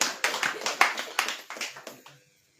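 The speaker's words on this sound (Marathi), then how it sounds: "टाळी वाजवा।" Group hand clapping during a church prayer gathering, a series of sharp, evenly spaced claps with a few overlapping, fairly close, ending abruptly in quiet.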